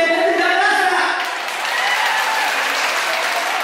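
A crowd at a show applauds loudly and continuously, the dense clapping dipping briefly before swelling again, with no talk over it.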